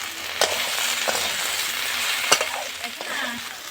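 Parshe and phesa fish frying in a pan with ginger-garlic paste, chili powder, cumin powder and salt, a steady close sizzle broken by a few scrapes of stirring.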